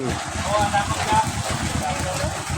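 Steady rain patters down in a dense, constant wash, with a voice talking faintly underneath.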